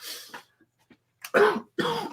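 A few sharp, harsh coughs close by, separated by short quiet gaps, with quieter breathy sounds in between.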